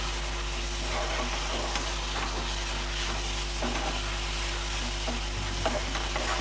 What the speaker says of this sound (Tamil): நல்ல 1 நிமிஷம் நல்லா ஹை ஃப்ளேமில் இப்படி கிளறி கொடுங்க.